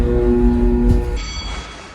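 A subway C train at Utica station rumbles loudly on the platform, with a steady low roar and a sustained tonal hum that cuts out partway through as the train noise shifts and fades.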